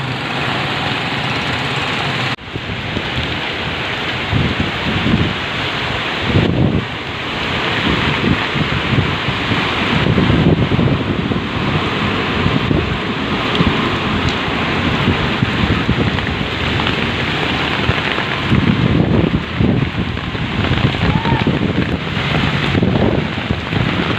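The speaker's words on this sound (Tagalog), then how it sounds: "umuumpisa na po yung mga malakas na hangin sa kaulan" Heavy typhoon rain pours down in Pasig while strong wind gusts roar against the microphone, surging and easing in waves throughout.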